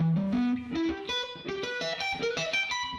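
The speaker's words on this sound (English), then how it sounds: "or with a sweep pick" Electric guitar sweep-picked arpeggio, distorted and run through effects, rolling upward and back in a fast stream of connected notes with a loud, steady sustain and no talking.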